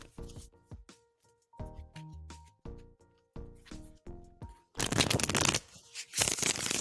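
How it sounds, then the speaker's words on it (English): Tarot cards are shuffled in soft bursts of flicking and riffling over gentle chiming music, ending in a louder, denser shuffling rush. "let's shuffle for your in-depth reading"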